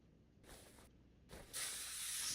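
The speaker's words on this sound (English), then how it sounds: "Spray it." Two short bursts of spray hiss on a car suspension bushing in Car Mechanic Simulator 2021, followed by a longer, louder continuous hiss; quiet gaps between the bursts.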